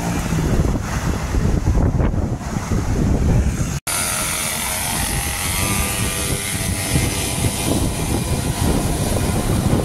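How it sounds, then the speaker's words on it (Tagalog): Strong wind roars continuously into the microphone, a loud buffeting rush with a brief dropout partway through. "Lakas pa ng hangin."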